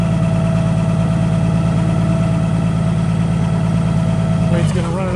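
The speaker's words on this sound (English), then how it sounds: "It's got an awesome running Chrysler 6-cylinder LP gas engine, automatic transmission" A Chrysler 6-cylinder LP gas engine in a Yale GLC060LC cushion-tire forklift runs at a steady, loud idle throughout, with a brief shift in tone just before the end.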